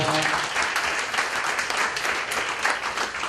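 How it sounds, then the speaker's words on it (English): An audience gives steady, dense applause for Judy Chu, a continuous wash of many hands clapping filling the room without letting up. "So give Judy a big round of applause."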